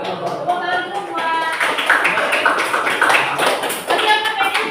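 Hands clapping among a group, with light taps and claps scattered through the clip beneath people talking and calling out.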